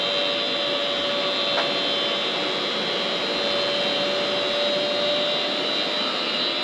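Network server room equipment and air conditioning in a police department building produce a loud, steady roar with a faint constant tone running through it, unbroken for several seconds.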